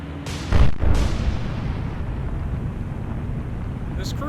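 Warship guns fire high-explosive shells in the naval game War on the Sea, a loud booming blast early on followed by a second report, then a steady low rumble of the sea and ship.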